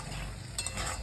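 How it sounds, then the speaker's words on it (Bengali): Masala spices frying in a pan with a little milk for prawn malai curry, a soft steady sizzle with a brief stirring scrape midway, quiet and without talk. "একটু সামান্য মশলাটা ভাজাচ্ছিলাম, সামান্য দুধটা দিয়ে একটু কষা হবে"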